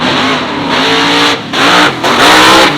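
A wheelstand drag car's engine roars at full throttle during a wheelie, a loud, close, sustained rev that drops briefly and then surges again.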